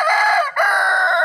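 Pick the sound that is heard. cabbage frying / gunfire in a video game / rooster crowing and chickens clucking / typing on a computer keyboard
rooster crowing and chickens clucking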